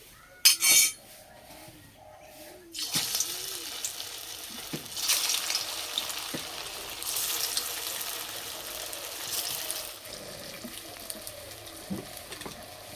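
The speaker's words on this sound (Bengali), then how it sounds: "তেল গরম হয়ে গেছে, ভেজে নেব।" Semolina and carrot snacks dropped into hot oil, a few clinks and soft thuds giving way to a rising, steady frying sizzle that swells and fades, with no speech.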